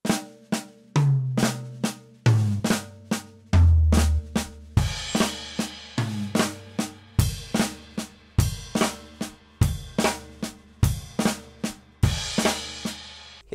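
Solo drum kit plays a steady triplet sticking figure with flams on the snare, the accents travelling across the toms so the pitch steps downward in repeating cycles; close, punchy, and alone with no talking.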